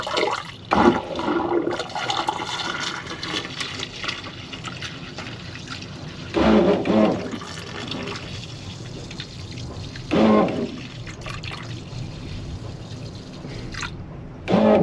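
Water rushes down a marine toilet in a few bursts of flushing as acid is flushed through its pipes, with dripping and trickling between, fairly close.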